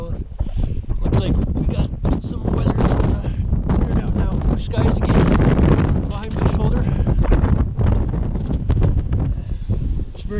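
Strong gusty mountain wind on Longs Peak buffets the microphone in heavy rushing bursts, with a voice talking underneath.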